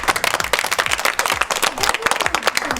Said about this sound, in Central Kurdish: یەک چەپڵە بۆ ناری لێبەر